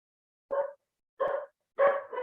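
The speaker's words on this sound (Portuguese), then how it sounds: "É que ele está latindo bem aqui." A dog barking nearby during an online class, three separate sharp barks spaced about a second apart, the last one doubled, each standing alone against silence.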